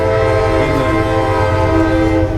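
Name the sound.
passing train sounding its horn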